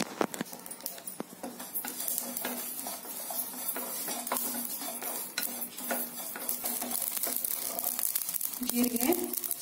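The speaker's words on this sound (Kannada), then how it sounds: "ಇವಾಗ ಜೀರಿಗೆ ಹಾಕೊಂಡ್ತಾ ಇದೀನಿ" Cumin seeds roasting in a hot pan for homemade Karnataka-style bisi bele bath powder give a steady close crackle and sizzle, with utensil stirring and scraping throughout.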